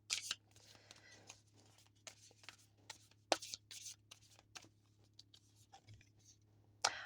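Tarot cards are shuffled and pulled by hand, soft papery riffles, slides and taps coming in quick irregular bursts, close and quiet over a low steady hum.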